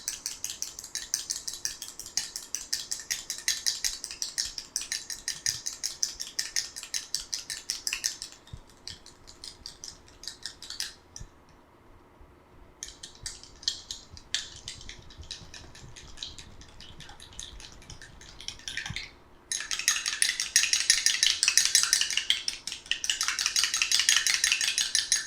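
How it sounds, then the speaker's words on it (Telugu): A sticky homemade face pack mixture beaten in a bowl, a fast continuous clicking whisking rhythm close by that pauses twice briefly, then resumes louder and busier. "కాబట్టి స్టిక్కీనెస్ తగ్గాలి అంటే మనం ఈ విధంగా బీట్ చేసుకోవాలి"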